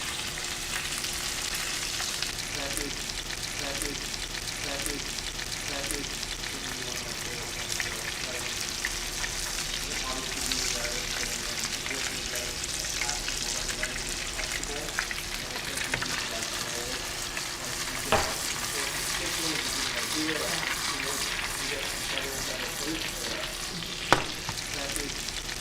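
Swedish meatballs and onions frying in a pan, a steady close sizzle and crackle throughout with occasional stirring scrapes and small clanks, no talking.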